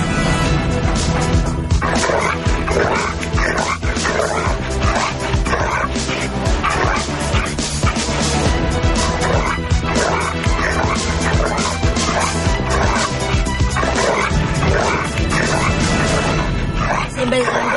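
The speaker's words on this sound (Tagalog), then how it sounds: "Karaniwang training sa mga patrol dog ay pinakakagat sa kanila ang isang taong nakasuot ng ganitong bodysuit." A police K-9 patrol dog barks and snarls repeatedly while attacking a person in a training bodysuit, a dense, continuous run with loud thuds and people shouting and talking over the commotion throughout.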